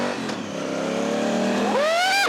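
Honda Africa Twin motorcycle engine rising steadily in pitch as it accelerates, then a sharp rev climb near the end, loud and continuous with no talk over it.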